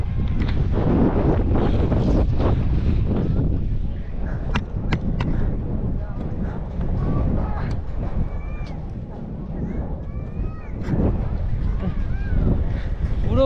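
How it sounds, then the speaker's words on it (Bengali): Strong wind gusts across a microphone at North Sikkim's Zero Point on the India–China border, a dense, steady low rumble buffeting throughout, with faint voices surfacing briefly under it. "আর প্রচণ্ড হাওয়া, প্রচণ্ড একদম।"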